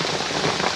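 Heavy rain pours down during a storm over a jungle stream, a dense steady hiss of drops close by, loud and unbroken without any voices.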